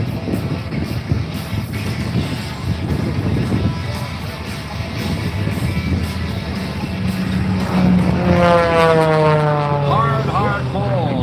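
A propeller aerobatic plane performs a hard pull and a series of aileron rolls at the Fort Lauderdale Air Show. Its steady engine drone swells and rises in pitch toward the end, over crowd noise, with an announcer talking throughout.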